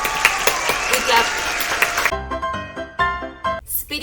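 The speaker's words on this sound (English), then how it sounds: "We clap." Crowd breaks into a loud burst of applause for about two seconds, then it cuts off abruptly to music and talking.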